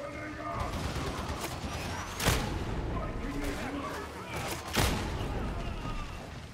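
Hellbore lasgun fire from a Death Korps of Krieg soldier in Warhammer 40,000 Darktide: a dense, continuous barrage of shots over constant battle noise, with two heavier booming blasts standing out, and speech faintly mixed in.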